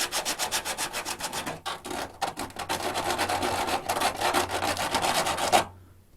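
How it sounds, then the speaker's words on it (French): Emery cloth rubbed by hand against the rocker panel of a Honda Integra Type R, in quick, steady back-and-forth strokes that are close and loud, with a short pause partway through before the strokes resume and then stop. "Un coup de toile emery."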